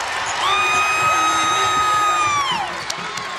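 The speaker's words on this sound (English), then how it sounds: "The crowd for NC State is trying to lift the Wolfpack." An NC State crowd cheers at a women's basketball game against Virginia Tech, a loud sustained roar of voices and whoops swelling then easing off.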